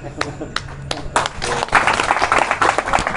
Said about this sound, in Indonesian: Tepuk tangan buat beliau ya.